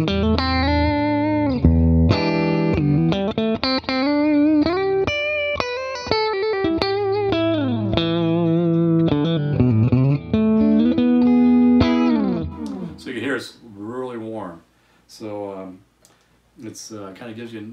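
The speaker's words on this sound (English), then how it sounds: "let's go to position 3, which is going to be, if you remember, it's going to be the humbucker with the middle and the neck in series" An electric guitar fitted with Mad Hatter Terminator pickups, the humbucker set to middle and neck in series, plays a continuous run of distorted notes and chords, loud and close, thinning into sparser picked phrases near the end.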